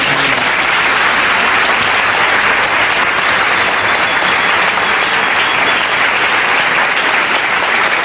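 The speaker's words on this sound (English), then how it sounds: "Let's give him another round of applause" Sustained, loud applause from an auditorium audience honouring a lecture speaker, dense and steady throughout with no break.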